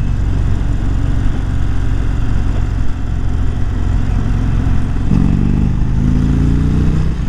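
An Indian Springfield Dark Horse 116 cruiser motorcycle drones steadily under heavy wind rumble, then its engine note rises clearly as the bike accelerates hard in the final seconds.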